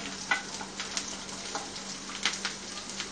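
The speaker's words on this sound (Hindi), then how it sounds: "ये हमारा जो प्याज हमने कट करके रखा प्याज डाले इसमें" Chopped onion, green chilli, ginger and garlic fry in a pan with a constant close sizzle. Regular spatula scrapes and clacks roughly every half second punctuate it.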